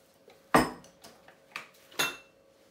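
A lid goes onto a cooking pot of dêguê that is then left to rest: one sharp metallic clank, then lighter clinks and a second clear clank, close and loud against a quiet kitchen.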